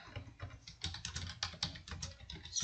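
Quick, steady keystrokes on a computer keyboard, a light run of clicks at low volume with no voices.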